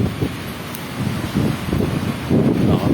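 Steady wind gusting across the microphone at a seaside cove resort in Quezon Province, a constant low rumbling roar with no voices.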